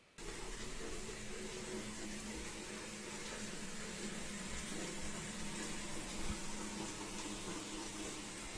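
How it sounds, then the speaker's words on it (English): A faucet runs continuously, a steady rushing hiss of water that holds evenly throughout with no talking. "The faucet."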